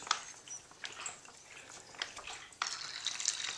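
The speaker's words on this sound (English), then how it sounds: "you can hear it kind of backflowing back into the bag there" Water trickles and gurgles as it flows back into a WaterBOB emergency storage bag, a faint, patchy splashing with small bubbling pops, louder and busier in the last second.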